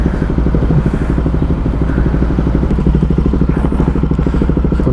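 Motorcycle fitted with a loud replacement aftermarket exhaust, its engine running with a steady, rapid pulsing throb that stays close, loud and constant throughout.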